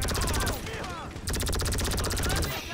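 Rapid automatic gunfire in a video game, a dense rattling burst, a short break and then another sustained volley, loud and close with voices underneath.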